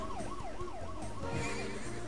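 Horse riders in the video game Tasty Planet give a whinnying neigh, heard as repeated wavering tones over a steady synthetic siren-like game soundtrack, loud and continuous throughout.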